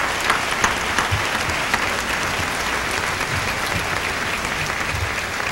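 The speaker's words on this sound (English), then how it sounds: "Let's give Full Gospel a big hand clap." A church congregation at a homecoming service gives a big round of hand clapping, a dense, steady applause heard at close range throughout.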